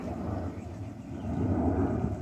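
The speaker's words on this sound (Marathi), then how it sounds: "विमानाचा आवाज यायलाय बघा." An unseen airplane passing overhead above a farm field, a faint low steady drone that swells slightly.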